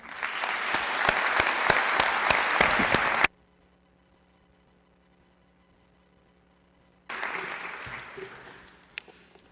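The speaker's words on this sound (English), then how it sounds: "how about a round of applause for Coach Smar?" Audience applause at a university opening convocation ceremony: a full, crackling round of clapping for about three seconds that stops abruptly, then near silence, then a second burst of clapping resumes and tapers off.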